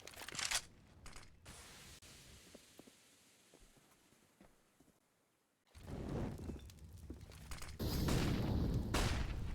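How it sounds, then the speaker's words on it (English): Grenade blasts in Counter-Strike during a competitive match, with a sharp burst at the start, a quieter stretch, then two loud booming explosions with lingering rumble near the end. "watching out for both those nades headed his way"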